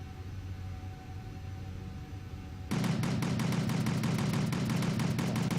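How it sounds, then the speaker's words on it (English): Weapons in the Kerbal Space Program video game fire a rapid automatic burst, dense machine-gun-like rattling that starts abruptly after a quiet hum and continues steadily to the end. "Get the guns out and just shoot at the ground, or that wreckage just there."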